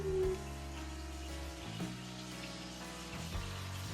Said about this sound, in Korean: 지금 튀겨줄 거예요. 근데 튀기게 되면 기름이 엄청 튀니까